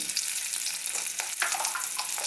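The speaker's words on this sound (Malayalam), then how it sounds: "ബീഫ് മസാലയ്ക്ക് വേണ്ടി ചെറുള്ളി ഇട്ടു, മുളകിട്ടു, കരിവേപ്പില ഇട്ടു, പെരുംജീരകം ഇടുന്നു." Shallots, chili, curry leaves and fennel seeds sizzle in hot oil for beef masala, a dense close crackle with stirring scrapes, heard alone without talk.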